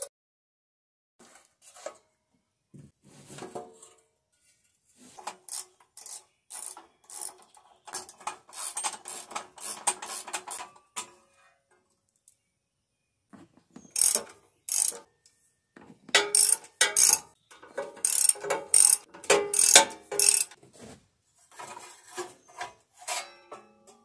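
A ratchet wrench removing 3/8 starter bolts on a Case Ingersoll 446 garden tractor, heard as close bursts of rapid clicking pawl strokes separated by pauses, with metallic rasping as the bolts turn.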